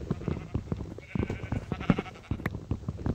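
Sheep bleating in the video game Minecraft, several short bleats scattered across the moment over busy in-game sounds.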